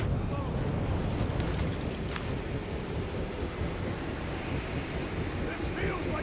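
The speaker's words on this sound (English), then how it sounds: "Your feeble body cannot overpower such tremendous gusts!" In Guardians of the Galaxy, giant turbines blast a strong, continuous roar of wind, a dense rushing gust that stays loud and close throughout, with voices faintly mixed in.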